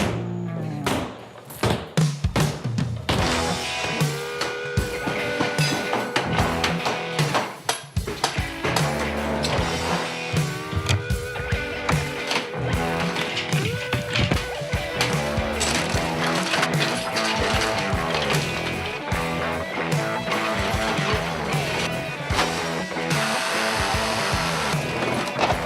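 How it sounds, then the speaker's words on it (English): Home renovation demolition with a big hammer, loud repeated impacts and cracking of material, with bursts of crashing debris continuing throughout, close and dense, with voices buried underneath. "grab a nice big hammer. Let's do it. Demo's a lot of fun."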